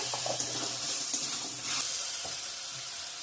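Fried potatoes and pointed gourd are stirred in a pan while they sauté, making a soft continuous sizzle with quiet scraping and clinks from the stirring.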